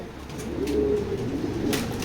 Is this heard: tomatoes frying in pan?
no